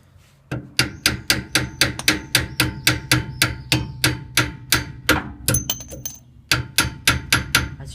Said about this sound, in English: now take your hammer.